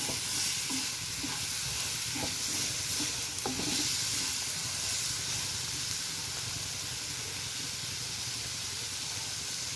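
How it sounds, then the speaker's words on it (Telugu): Chili powder, salt and coriander powder are stirred into a cauliflower tomato curry over a steady frying sizzle, with a few soft spoon scrapes and taps early on. "ఇవన్నీ మంచిగా కలిసేలాగా చక్కగా కలుపుకోవాలి"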